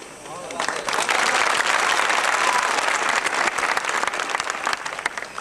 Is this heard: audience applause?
yes